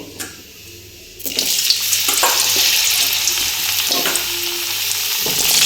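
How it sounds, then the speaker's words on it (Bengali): Loud, continuous sizzling of potatoes frying in hot mustard oil with five-spice tempering, starting abruptly after a quiet second with occasional clinks of stirring. "এবার আলুটা একটু ভেজে নেব।"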